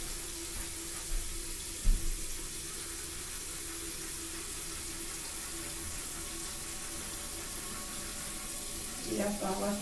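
A bathroom tap runs steadily into a sink during tooth brushing and face washing, a continuous close hiss of flowing water with a small knock partway through and brief clatter near the end.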